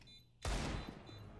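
A sudden loud burst of gunfire in the Counter-Strike game breaks the quiet and then trails off into a sustained rumbling decay, one sharp onset followed by a fading tail.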